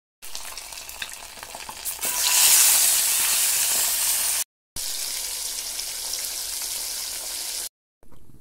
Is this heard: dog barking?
no